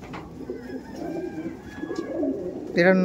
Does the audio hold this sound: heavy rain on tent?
no